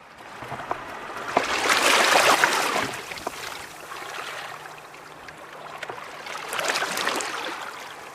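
Ocean waves wash onto a pebble and sand shore on the Ulsan coast in slow, broad swells, rising and falling with a hissing, rolling surge.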